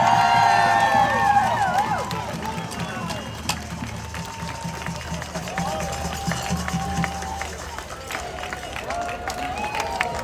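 A crowd at an outdoor Free DC protest rally against federal occupation claps and cheers in a steady, dense wash of applause, with shouts and voices mixed in throughout.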